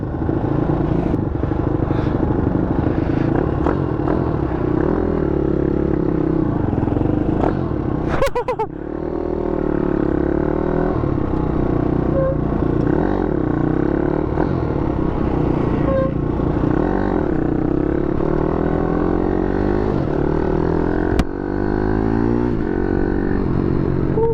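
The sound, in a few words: Ohvale GP-2 mini superbike riding, first ride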